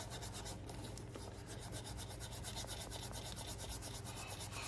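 Conditioner is rubbed into leather boots with a cloth or pad in a continuous soft scrubbing rasp of quick back-and-forth strokes, faint and close, with no voices.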